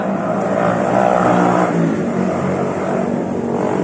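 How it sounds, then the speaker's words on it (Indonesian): A loud, rushing engine drone sweeps past up close, swelling briefly and then easing off, with wind noise mixed in. "berisik guys, angin motor liwat."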